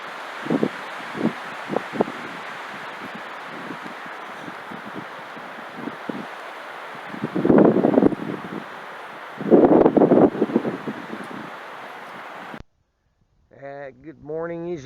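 Gusty wind rushes through bouncing trees outdoors, with steady broadband rustle and two stronger gust surges midway, before cutting off; a voice speaks briefly at the end.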